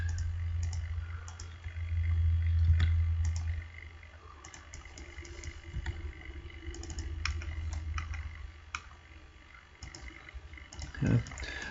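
A computer mouse clicks several times at scattered intervals on a desk during landscape estimating software work, soft and close, over a low background hum with no clear talk.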